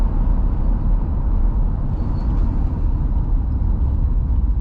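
A 1967 Rolls Royce on a test drive, heard from inside as a steady, smooth low engine and road rumble that holds evenly throughout.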